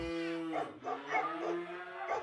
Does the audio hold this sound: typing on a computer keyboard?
no